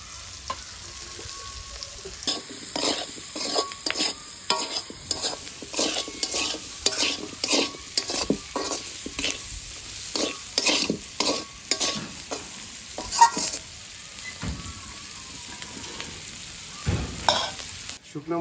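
A spatula scrapes and stirs fried onions with turmeric in a pan for a fish curry, a steady run of repeated strokes over a continuous sizzle.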